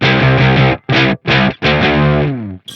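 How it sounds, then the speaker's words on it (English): An electric guitar played through a pedalboard gives harsh, metallic, ring-modulator-like interference tones in loud sustained chords broken by short gaps, with no voice. "it has this weird interference that it almost makes it sound like a ring modulator"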